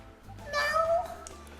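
A person imitates a cat meowing, one drawn-out whiny meow rising and falling, close and fairly loud.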